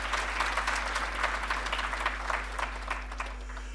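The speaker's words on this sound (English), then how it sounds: "Give them another round of applause," An audience at a Guru Purnima satsang applauds steadily with dense, even clapping, tapering slightly toward the end over a low constant hum.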